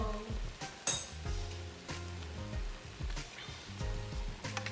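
Beef sizzling in a pan for a beans and beef stir fry, a steady close frying hiss punctuated by clinks and scrapes of a utensil against the pan.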